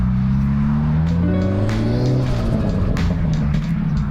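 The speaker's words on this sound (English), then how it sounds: "Hopefully y'all can hear the turbo flutter." A 2025 Hyundai Elantra N with an aftermarket intercooler, high-pressure fuel pump and blow-off valve revs and lets off, its loud engine tone falling through gear-like sweeps with fluttery turbo chatter bursts close by.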